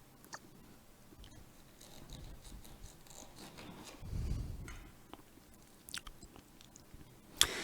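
A knife cuts a lemon in half at close range, making soft, quiet slicing and squishing sounds that swell briefly in the middle, with a few small clicks of handling around them.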